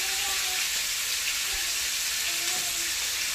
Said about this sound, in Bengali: পনিরটা ভালো করে ভেজে নিন